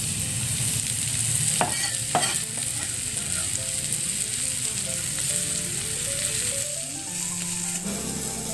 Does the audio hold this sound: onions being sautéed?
yes